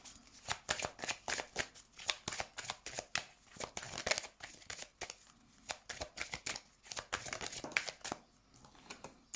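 Tarot cards shuffled by hand for a reading: a close, soft run of rapid riffling and slapping bursts in an uneven rhythm, with no talk.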